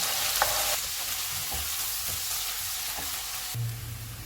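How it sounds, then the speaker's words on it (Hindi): Sliced onions fry golden in hot oil for egg curry, a continuous close sizzle broken by soft taps and stirring knocks from a spoon against the pan. "ऑयल गर्म हो गया, इसमें प्याज डालेंगे। इनको गोल्डन फ्राई करेंगे।"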